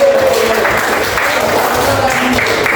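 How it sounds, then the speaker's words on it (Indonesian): Group clapping in a classroom lesson, a fairly loud continuous patter of many hands that runs through the whole moment, with a faint tone or voice-like hum in the background. "Tepuk tangan dulu."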